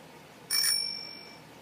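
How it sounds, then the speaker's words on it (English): A phone ringtone gives one short, bright bell-like chime that rings out and fades over about a second against quiet room noise. "There went the bell. It's my phone."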